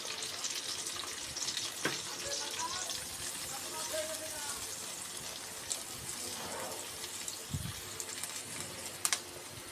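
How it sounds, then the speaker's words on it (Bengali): Onion goes into heated oil and fries with a continuous close sizzle, a few louder pops and crackles standing out over the hiss, while someone talks quietly over it. "তেলটা হয়ে গেছে, এখন আমি পেঁয়াজটা দিয়ে দিব।"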